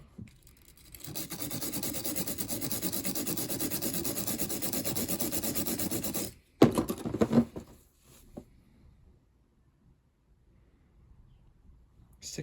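Steady rasping rub on a motor bearing to clean its printed label, loud and continuous for about five seconds, then stopping abruptly before a few brief handling knocks and near silence.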